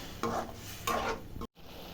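Soaked tamarind fries in a pan for vangi bath gojju: two scraping stir strokes sweep over a low, continuous sizzle before the sound cuts off abruptly.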